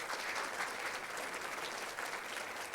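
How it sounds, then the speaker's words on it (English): Steady, sustained applause from a pageant audience at a fall festival queen pageant, dense clapping filling the room throughout without speech. "So please give a round of applause as my friend Becca joins us on stage."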